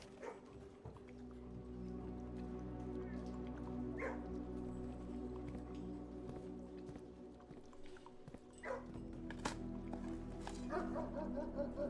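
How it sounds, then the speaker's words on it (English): A dog in the video game Blue Prince gives a few separate yips and short barks over a low ambient game hum, with small whimpers in the pauses. "Hi, doggy. He's a good boy."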